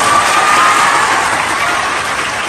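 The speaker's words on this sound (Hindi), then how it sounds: "तो ऐसे गुरु को चालू करता हूं और जोरदार तालियां बजाइए।" Loud, dense applause from a large crowd at a coaching-class inauguration ceremony in India, with a few cheers mixed in, continuing steadily throughout.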